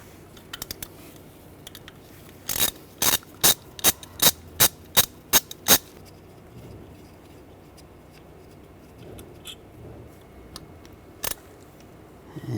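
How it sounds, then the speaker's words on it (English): A ratchet with a T30 socket clicks rapidly in a burst of about ten sharp ticks as it backs out an ignition coil bolt on a 2006-2009 Mercedes-Benz E350, then a few scattered clicks follow. "Now we're going to take the bolts out using a T30 socket."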